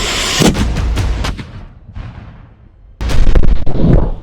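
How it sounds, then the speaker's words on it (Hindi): Battle cannon and gunfire: heavy booming blasts with cracking reports, several loud shots early on, a lull with distant rumbling, then a fresh dense volley of explosions close by. "तोपखाने, आधुनिक तोपों और बंदूकों का इस्तेमाल किया गया।"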